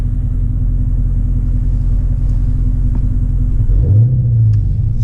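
Dodge Challenger 392 R/T Scat Pack 6.4L V8 fitted with a BBK 85 mm throttle body, a steady loud idle rumble close by, then a single quick throttle blip rising and falling near the end.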